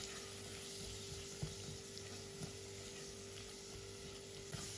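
Chopped onions and peppers fry in a pan with a faint, steady sizzle. Soft clicks and scrapes of stirring come through now and then, with no talking.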